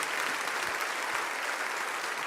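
A church congregation claps together in a steady, dense wash of applause, loud and sustained throughout, with no voices standing out.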